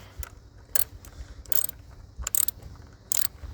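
A ratchet with a 10mm deep socket tightens a bolt while a serpentine belt is replaced on a 2000-2004 Subaru Outback, giving several short bursts of quick, close clicking separated by brief pauses.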